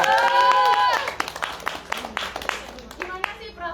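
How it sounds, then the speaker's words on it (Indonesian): An audience at an artists' talk breaks into scattered clapping after an opening voice, with sparse, uneven claps close by rather than a full ovation. "Tepuk tangan dulu lah"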